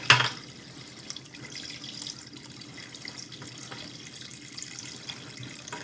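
Water is poured into an aquarium, a steady splashing trickle running continuously after a brief initial splash, fairly close and moderately quiet with no talk.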